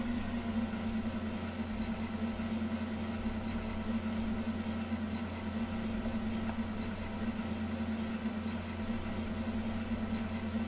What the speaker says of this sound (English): Ooh, nice bus noises.